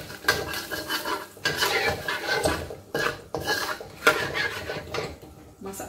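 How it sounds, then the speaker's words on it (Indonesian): Palm sugar with a splash of coconut milk is stirred in a pan over heat until it melts, for Indonesian kue bugis and kue koci filling, with repeated scraping and clinking of a utensil against the metal pan in uneven bursts. "pancingan pakai santan dikit nih, gula merahnya dimasak aja sampai larut semua."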